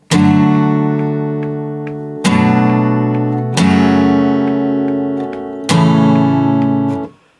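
Acoustic guitar strums the first chorus of a song, four strong chord strikes each left ringing and slowly fading, close and alone with no voice.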